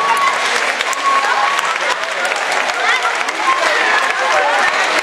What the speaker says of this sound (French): je vous remercie et d'applaudir très fort